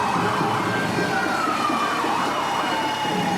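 Fire truck Engine 175 from Fairview sounds its siren at the Village of Mamaroneck firemen's parade. A loud, steady wail slides slowly downward in pitch over a constant background of street and crowd noise.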